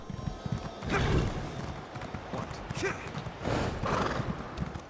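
Horse hooves in the video game Elder Scrolls Online clip-clop along at a steady pace, with bursts of louder rustling and a faint whinny-like cry in the mix.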